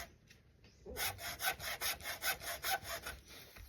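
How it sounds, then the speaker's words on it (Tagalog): A hand saw rasps steadily through a very hard fruit shell, about ten even back-and-forth strokes in a regular rhythm, close and clear after a brief quiet start. "Kailangan talagang gamitan ng lagari."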